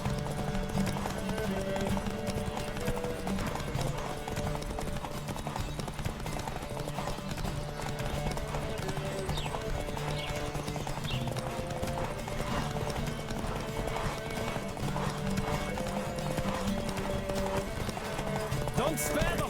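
Horses galloping in a race in The Witcher 3, continuous rapid hoofbeats under music and frequent spoken lines from riders.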